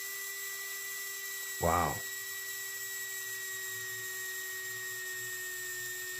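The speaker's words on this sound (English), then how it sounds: "revitalize this really tired old Mantua locomotive motor" An old, worn Mantua HO model locomotive motor, refitted with neodymium magnets, runs with a faint, steady whine throughout, briefly interrupted by a short spoken exclamation.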